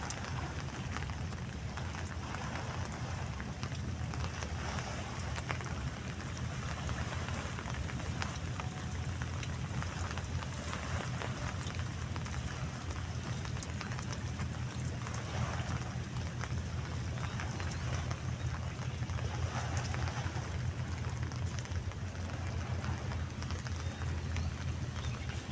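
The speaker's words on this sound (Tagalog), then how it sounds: "Maulan kasi." Steady rain falls without a break near a boat, a dense even hiss that stays at the same level throughout with no voices.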